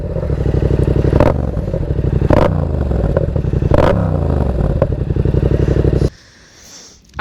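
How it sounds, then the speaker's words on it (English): An engine fitted with a Black Widow exhaust revs hard and close in repeated rising sweeps over a rough, crackling idle, then cuts out abruptly to near silence near the end. "the Black Widow exhaust, which sounds unbelievable"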